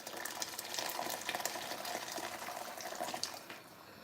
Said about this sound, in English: So I'm just going to go in with some water.